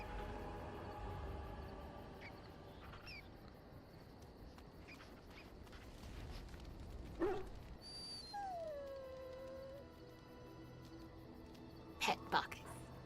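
Dog whimpering in the video game Dragon Age: Origins, faint high whines and short yips over a quiet game backdrop, with a few sharper sounds toward the end and soft talking.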